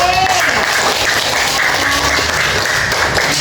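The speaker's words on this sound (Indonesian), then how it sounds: "Tepuk tangan untuk kawannya kelompok B." Classroom of children clapping for a group of classmates, a busy patter of hands with an adult voice and chatter mixed in underneath.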